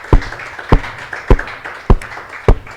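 Audience at a church service clapping together in a slow, steady rhythm, five loud claps spaced about half a second apart.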